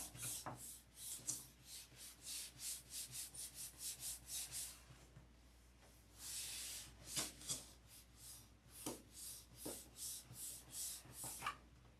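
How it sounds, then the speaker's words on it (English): Sandpaper rubbing back and forth over a wood finish in quick, regular strokes, close and fairly loud, with a longer continuous rub partway through and a few shorter passes afterward. "If you start feeling the sandpaper drag, you better stop. Because you're getting ready to burn through."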